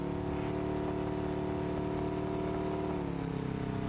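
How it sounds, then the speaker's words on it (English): A V8 car engine in the driving game BeamNG.drive hums at a steady, loud, low idle with dense harmonic drone, pitch dipping slightly near the end, with no voices over it. "That V8 sounds absolutely mean."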